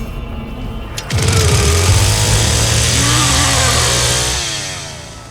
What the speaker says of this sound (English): The chainsaw from the Texas Chain Saw Massacre is as much a character as Leatherface, or the cook, or the hitchhiker, or grandpa